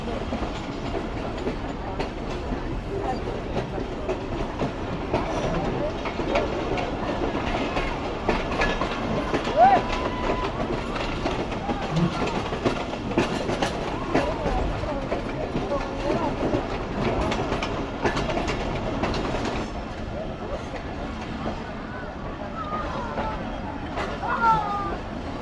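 A passenger train approaching Dadu railway station in Pakistan rumbles and clatters steadily over the rails, with continuous wheel and carriage noise and voices talking throughout.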